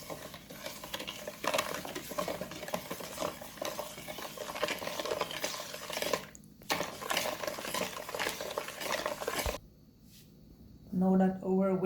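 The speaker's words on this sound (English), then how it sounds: "we're gonna stir in our sugar" Sugar stirred into the wet ingredients for an eggless Jamaican Easter spice bun, a steady scraping and swishing of a utensil against the bowl close up, pausing briefly, with a voice talking over parts of it.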